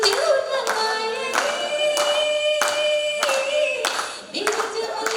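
Audience claps along in steady rhythm with a sung Nepali song at a singing contest grand finale, regular claps layered under the voice and music, close and lively.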